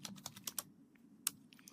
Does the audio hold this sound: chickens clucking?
no